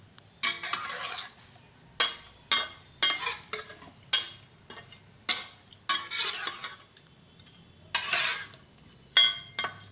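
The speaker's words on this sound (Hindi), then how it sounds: "तो इसको हम अभी अच्छी तरह से मिक्स कर लेंगे।" Fish pieces being mixed by hand with salt and turmeric in a bowl, heard as a run of about a dozen separate wet squelching and clinking strokes, close and fairly loud with short pauses between them and no talking.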